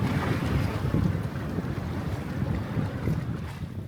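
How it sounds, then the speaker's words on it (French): Strong wind in Sicily roars continuously, buffeting the microphone with low rumbling gusts, a heavy blustery wash with no voices. "Ça souffle, il y a encore du vent aujourd'hui."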